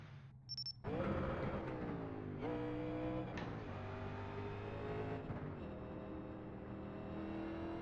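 A 1987 NASCAR stock car engine on the Milwaukee Mile oval in iRacing, a loud near roar that revs up sharply, then climbs through gear shifts with steady whining pitch rises and brief dips between them.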